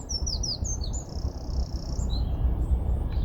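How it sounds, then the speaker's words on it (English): Birds sing in a dawn chorus by the River Stort, with bright chirps and short whistled phrases over a steady low rumble of background noise, moderately close and without talk. "But listen to the birds here."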